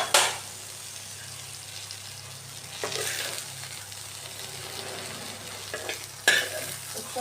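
Okra frying in hot oil, a steady soft sizzle broken by a few sharp stirring scrapes and clinks at the start, midway and near the end.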